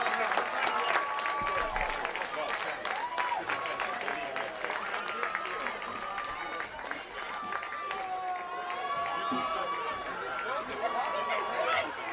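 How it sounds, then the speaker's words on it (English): Evening football crowd at Abington Green Wave football applauding the youth football program's players and cheerleaders, with sustained clapping and chatter filling the stands while whistles and voices rise over it. "Let's give them a nice round of applause, the Abington Youth Football Program."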